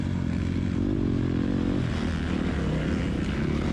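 A motocross motorcycle roars at full throttle on a technical dirt track, its loud, steady engine drone holding throughout with a slight rise and fall in pitch.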